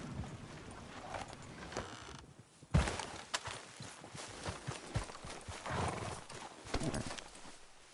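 Horse hooves clip-clop unevenly at a walk, mixed with creaks, mechanical clatter and a brief whinny, moderately close, in the video game Red Dead Redemption 2.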